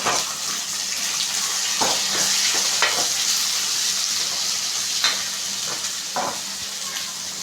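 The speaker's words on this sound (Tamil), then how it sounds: "உப்பு போட்டு நம்ம வதக்கிக்கலாம்" Onions and tomatoes sauté in a pan for an egg gravy, a steady close sizzle with occasional scraping stirs throughout.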